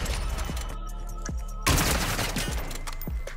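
Rapid automatic gunfire in a shooter video game, loud and close, firing in dense bursts with sharp individual reports throughout and no talking over it.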